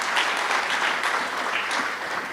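An audience at an energy industry conference applauds steadily, a dense wash of many hands clapping at even loudness throughout, with no voices over it.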